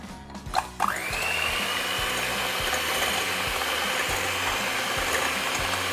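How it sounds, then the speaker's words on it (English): An electric whisk or mixer whips egg whites with a pinch of salt, starting with a few bumps and then settling into a steady, loud motorized whir that continues unbroken, with no talking. "And then you're going to get ready to whisk all of this up."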